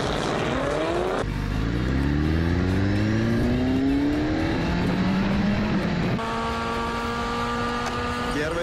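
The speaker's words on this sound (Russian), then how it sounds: "сегодня у нас гонка между старым Авенсисом" An old Toyota Avensis and a new one racing: a loud, close engine note rises steadily through the gears, with abrupt shift breaks and rough, constant wind and road roar underneath.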